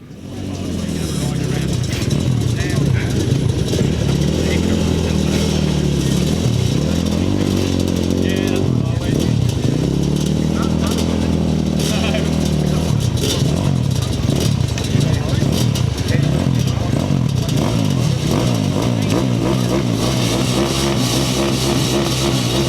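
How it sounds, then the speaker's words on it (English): Five racing quad bikes at a 2007 grasstrack meeting at Bewdley rev and roar past in a loud, sustained sweep, engines rising and falling as they pass close by, under a public-address commentator's voice. "We've got the 5 quads out and they come by us for the first time."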